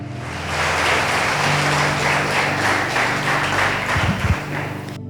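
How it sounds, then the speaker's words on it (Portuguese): Church congregation applauding loudly during a worship service, a dense steady wash of clapping throughout, with a low hum underneath and a brief low thump near the end. "Aplauda mesmo bem forte."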